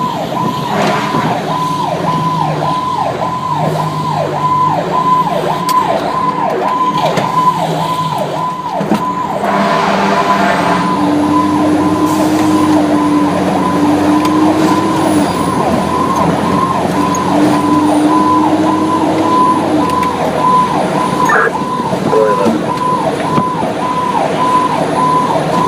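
A fire engine and squirt truck responding to a building fire, their sirens wailing in a loud, fast repeating cycle for the whole stretch, with heavy truck engine rumble beneath.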